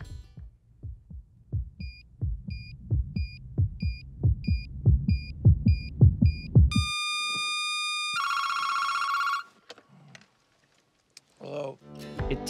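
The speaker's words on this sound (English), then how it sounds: "the heartbeat sound effect match cut with the phone ringing" A steady thumping heartbeat sound effect with high electronic beeps over it, then it cuts to a loud, shrill electronic phone ring before a short burst of noise, from the film Uncle Buck.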